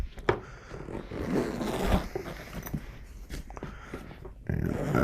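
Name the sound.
zipper of bow case being unzipped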